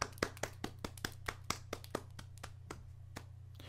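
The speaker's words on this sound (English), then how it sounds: "Okay, more like a couple of people clapping." Sparse applause from only a couple of people in a video game scene, a thin run of about fifteen separate claps at a steady, unhurried pace, faint and with no other sounds.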